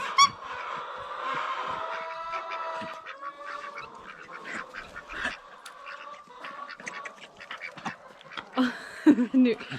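Muscovy ducks quack and honk nearby in an irregular, overlapping chatter, with louder squawks toward the end over a faint outdoor background.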